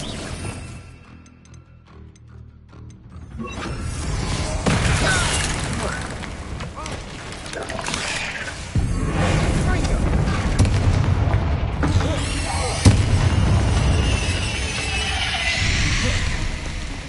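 Spell blasts go off in Hogwarts Legacy: heavy booming explosions and crackling bursts pile up continuously at high volume, with a voice speaking over the din.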